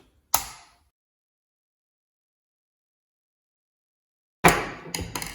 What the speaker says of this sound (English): Then we will loosen the axle clamps and also the axle bearing lock bolts.